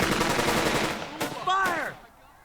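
Rapid automatic gunfire crackles in Burden of Command, a dense burst of shots followed by a couple of sharper reports and a brief ringing tone before the din cuts off.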